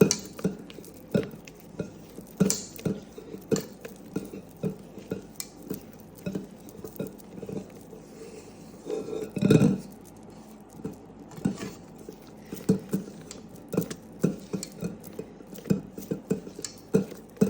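Royal icing with added vanilla being mixed in a bowl, a close run of irregular soft taps, scrapes and patters from the utensil against the bowl, with one louder clunk partway through and no talking.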